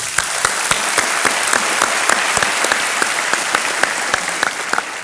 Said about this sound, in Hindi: एक बार फिर तालियां बज जाएं आयुष्मान जी के लिए